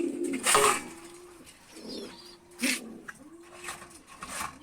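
Soft, low cooing from breeding pigeons, a few rolling coos spaced apart, close by, with occasional rustling and a brief sharper bird sound.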